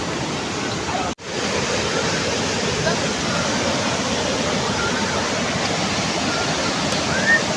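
Devi's Fall waterfall in Pokhara roars as a steady, loud rush of water close by, broken only by one momentary dropout near the start.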